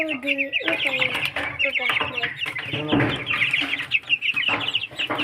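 Chickens on a farm cluck and squawk in rapid, overlapping bursts close by, with voices talking through much of it.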